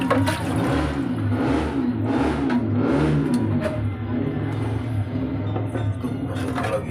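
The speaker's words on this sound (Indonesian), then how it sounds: "Aduh, berisik banget motor." A motorcycle engine roars and revs in loud, fluctuating surges, close by and continuous, with no talking.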